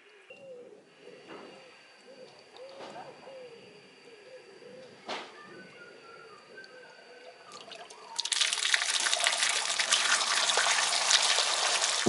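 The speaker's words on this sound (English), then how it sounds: "what you can see here is the water flowing over the plastic tube, and this is the key element to the activation" Water rushing over the plastic tube of a cut-open auto syphon, arriving suddenly as a loud, steady hiss and splash after quieter gurgling and scattered knocks.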